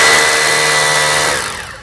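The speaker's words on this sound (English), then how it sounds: "These bits are designed, the hammer part of this, the shaky part of it, is designed to agitate the surface inside the hole and do the cutting for you." A hammer drill bores a hole for a railing post, giving a loud, steady, close-up whir with a hammering buzz that runs without a break, then winds down and fades near the end.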